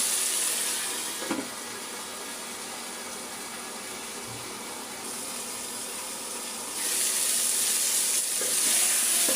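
Papaya sautéing in a pan for a singi fish curry, a soft steady sizzle with occasional stirring clatter, quieter in the middle and louder near the end, no talk.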